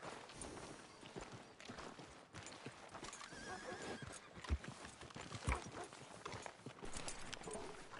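In Red Dead Redemption 2, a horse whinnies while hooves clip-clop steadily beneath it, with a dense mix of background sounds the whole time.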